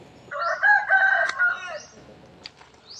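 A rooster at a temple in Chae Hom, Lampang crows once nearby, a loud drawn-out cock-a-doodle-doo lasting about a second and a half against a quiet background.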